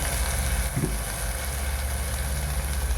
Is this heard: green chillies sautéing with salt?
yes